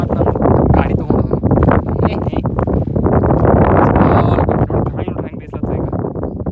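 Strong wind buffeting a microphone at a rocky hilltop viewpoint in Uttara Kannada, Karnataka, loud and continuous roaring gusts with someone talking over it.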